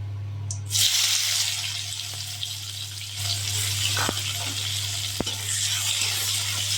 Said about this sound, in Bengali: তেলের ওপর পেঁয়াজ কুচি দিয়ে দিচ্ছি।